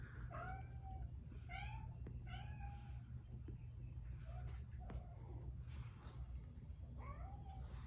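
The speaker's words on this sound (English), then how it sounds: "they're meowing very loudly" Several cats meow loudly one after another in a steady series, each cry rising and falling, over a constant low hum.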